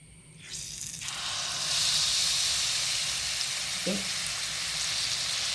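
Malpuri batter poured into hot oil over a low flame erupts into a loud, steady sizzle and hiss that swells within the first two seconds and keeps bubbling close by without letup.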